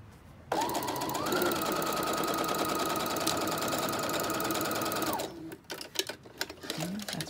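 Sewing machine running a continuous straight stitch along a fabric edge with the presser foot guiding, a steady loud motor hum that stops, followed by handling noises and brief fabric rustle.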